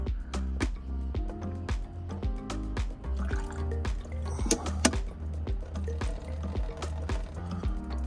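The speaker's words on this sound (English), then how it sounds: "Now I'm just going to add that 1 cup of bleach" Bleach pours through a funnel into a water system, a gurgling stream broken by irregular splashes and drips, close and moderately quiet.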